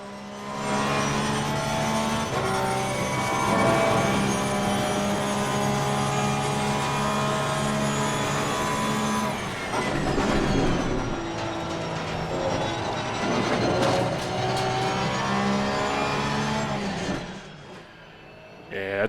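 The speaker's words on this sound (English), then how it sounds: "Let's just listen to the car for a bit here." A GT3 race car engine in Assetto Corsa Competizione at the Nürburgring screams through sustained high revs with layered harmonic whine, dipping through gear changes and braking before building again, heard loud and continuous.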